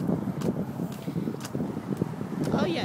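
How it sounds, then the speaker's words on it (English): Steady outdoor wind rumbles and buffets the microphone throughout, a low, blustery roar with no clear pauses. "it's really windy out"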